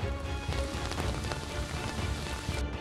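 Heavy monsoon rain falls steadily over flooded streets in the Delhi-NCR area, giving a dense, continuous patter and splash of drops with no voices.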